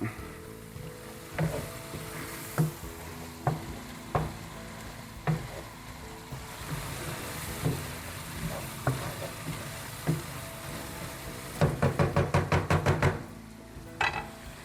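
Minced garlic and other ingredients for Zuppa Toscana soup sauté in a pot, a soft continuous sizzle broken by repeated scraping stirs, with a quick burst of rapid stirring clatter near the end; no talking.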